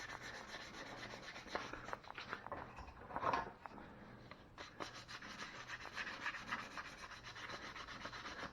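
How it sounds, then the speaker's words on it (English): Sandpaper rubbing over a part during work on a 1974 Honda CT70, a steady soft scratchy back-and-forth friction, faint and close, running continuously with no talk. "I have some sandpaper here, right here. And I can rough it up."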